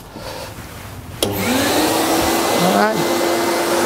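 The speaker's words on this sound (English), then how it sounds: "What I'm going to do is switch the vacuum cleaner on." A household vacuum cleaner switches on with a sharp click and settles into a loud, steady whine with a brief pitch sweep, used for cleaning floors; a voice speaks briefly before it starts.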